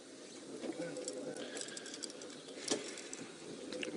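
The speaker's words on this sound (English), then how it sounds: "Can you see the go-away birds, Brian?" Go-away birds call out in the bush during an afternoon safari drive, with bird calls ringing over a low vehicle engine hum and a few faint murmured voices in the background.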